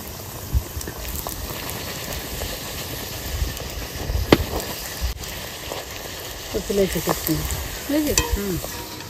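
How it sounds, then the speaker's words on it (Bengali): Semolina luchi fry in hot oil with a steady, close sizzle. Louder bubbling and spattering bursts come near the end, and no one speaks. "তেলটা গরম করতে বসিয়ে দিয়েছিলাম, এবার লুচিটা দিয়ে দেবো।"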